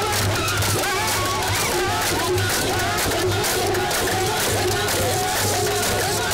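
A dense crowd in Kidal roars and chants in welcome for a visiting government delegation, loud and continuous with overlapping voices and shouts throughout.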